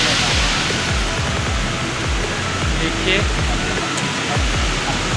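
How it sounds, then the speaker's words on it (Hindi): Chitrakoot waterfall in Chhattisgarh roars close by as a loud, steady wash of broadband water noise that fills the whole clip, with someone speaking briefly over it. "तो फ्रेंड्स हम झरने के करीब पहुंच गए।"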